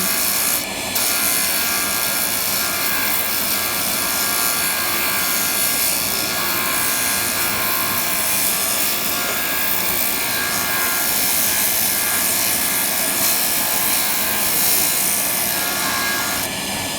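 A cabbing machine grinds a labradorite (spectrolite) stone in a loud, continuous abrasive rasp over a steady motor whine, close up and unbroken for the whole stretch, with no talking.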